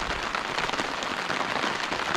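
Rain falls steadily on a van campsite at a campground in Kelletville, Pennsylvania, with a little wind. It makes a dense, even hiss of drops pattering on surfaces, with no voices.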